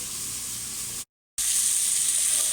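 Beef pieces sizzle steadily as they brown in a hot pan, a loud continuous frying hiss that breaks off briefly for a moment before resuming, with no talking.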